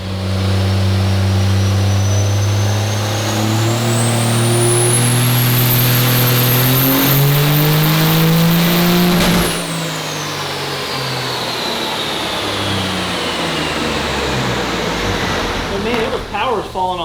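A turbocharged 800 hp 12-valve engine revs hard on a dyno, a loud, sustained climbing roar with a rising turbo whistle, then a sudden drop as the throttle lifts and the engine winds down.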